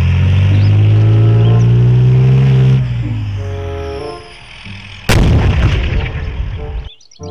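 A toy steel tank fires with a loud mechanical boom and whirring electronic effect, followed by a sharp bang and crackling burst near the end, all close and with no talk.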